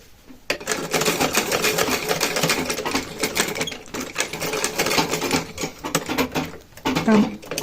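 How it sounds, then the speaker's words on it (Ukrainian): A sewing machine stitches an embroidered men's shirt, running in a rapid, steady mechanical whirr with brief pauses, close and fairly loud, while someone speaks over it. "ми зашиваємо так, як воно у нас є запрасоване"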